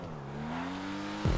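The engine of an Ubermacht Revolter car in Grand Theft Auto 5 drones steadily at speed during a race, its pitch rising slowly before an abrupt shift near the end.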